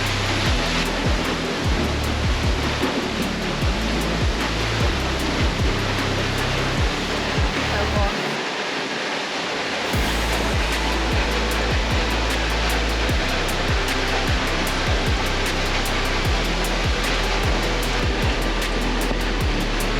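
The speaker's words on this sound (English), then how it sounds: "That is one of the, if not the best waterfall in the Pacific Northwest." Waterfall at Silver Falls State Park in the Pacific Northwest, a loud unbroken broadband roar of falling water heard up close, with a short break partway through.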